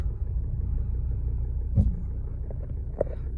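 A 2012 Volvo V60 2.0 D4 diesel with an Aisin automatic gearbox pulls away in drive, a low steady engine rumble with faint mechanical clicks and no voices.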